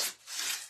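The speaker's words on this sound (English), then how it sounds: "we need to sand." A painted wooden butterfly finished in white chalk paint is sanded by hand, giving a short close scratchy rubbing stroke that fades briefly and then swells again, with no talking.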